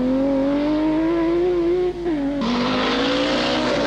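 A 430 hp BMW rally car on Corsica's mountain roads at the 1983 Tour de Corse: a loud, close engine note climbing steadily, a brief dip as it shifts, then a harsh, noisier surge.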